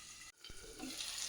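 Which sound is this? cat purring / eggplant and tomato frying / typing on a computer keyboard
eggplant and tomato frying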